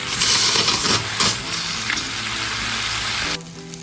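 Crab body pieces frying in oil in a pan and being turned over, giving a loud, steady close sizzle with a few stirring scrapes early on, no talking.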